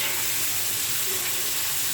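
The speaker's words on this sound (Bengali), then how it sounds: "একটু সরিষার তেল দিয়ে এটাকে ভাজি করে নিব" Bean seeds frying in hot mustard oil give a steady, loud, even sizzle that holds without a break.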